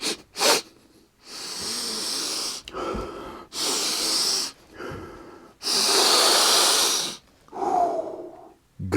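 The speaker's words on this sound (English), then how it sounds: "We got to come in for a sniff test." Several sharp nasal sniffs and breathy inhales come in separate bursts with short pauses between them, close and fairly loud, with no talking.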